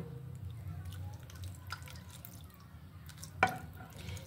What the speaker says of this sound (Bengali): আমি দুধটা ঢেলে দিচ্ছি আস্তে আস্তে, অল্প অল্প করে ঢেলে দিব